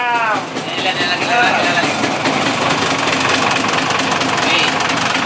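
An old Vespa SS 180 scooter with a cold engine idles close by, a loud steady mechanical chatter with a knocking, vibrating edge that runs throughout without a break.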